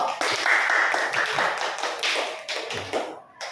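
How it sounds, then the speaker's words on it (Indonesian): Students in a classroom clap for a group, producing a fairly loud, continuous patter of many hands that is dense and bright, tapering slightly at the end. "Tepuk tangan buat kelompok 2"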